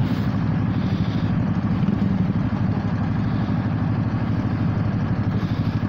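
A Honda Forza 300 scooter's exhaust gives a soft, steady, low engine drone while riding, continuous and even throughout with a faint rumble of road noise.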